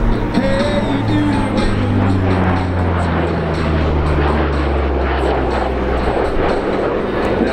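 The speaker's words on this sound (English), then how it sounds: "a photographic opportunity coming up of the Kiwi C-130 as it flies in from the west, low and hot" A Royal New Zealand Air Force C-130 Hercules flies low and hot overhead at an airshow, its propeller engines giving a loud, steady droning roar with a low harmonic hum that holds throughout.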